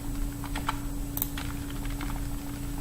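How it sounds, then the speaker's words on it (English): Computer keyboard arrow keys pressed during work in a Microsoft Access database: a scattered run of light, close clicks, irregular and a few quick taps, over a steady low electrical hum. "You can use the arrow keys to take them to where they are supposed to be"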